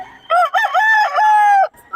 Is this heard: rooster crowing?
yes